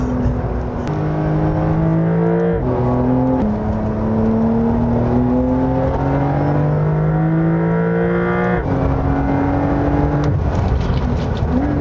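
A Porsche 911 sports car engine in manual mode revs hard through the gears on a winding road, its pitch climbing and dropping at each shift, loud and close with a steady roar underneath.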